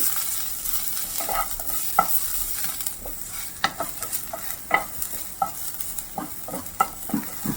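Onion, crushed ginger-garlic and cut green chilies fry in a pan without oil under a soft steady sizzle, broken by repeated scraping stir strokes of a spoon that grow more frequent toward the end.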